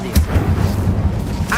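The Incendio fire spell goes off in a wizard video game with a deep, rumbling whoosh that fills the short moment, and a voice calls out over it.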